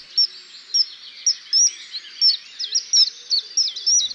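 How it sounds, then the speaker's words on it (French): A common kingfisher in Paris gives loud, shrill, piercing whistles, about a dozen sharp calls in quick, uneven succession, clear and close against a quiet background. "Il émet son cri puissant aigu pour en imposer face à un congénère ou repousser un intrus de son territoire."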